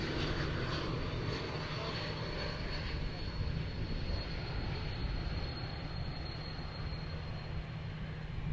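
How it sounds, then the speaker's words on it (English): Delta Air Lines Airbus A220-100 jet at Dallas Fort Worth airport, a steady loud engine roar with a whining tone holding throughout, heard from an outdoor spotting position. "And there's an A220-100 from Delta Airlines."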